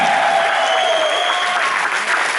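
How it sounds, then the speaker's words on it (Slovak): Audience applause at a show after a young boy's performance, sustained dense clapping heard loud and close for the whole stretch with no voices over it. "Zatleskajte mu ešte raz."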